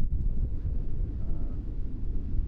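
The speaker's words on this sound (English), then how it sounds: "Wind is just outrageous." Strong wind buffeting a vehicle towing a trailer, a low, rumbling roar that gusts unevenly throughout, dominated by deep boomy tones.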